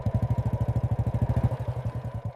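Motorcycle engine idling nearby in a village setting, a low, regular thumping pulse with a rapid, even beat and a slight rattle, steady throughout.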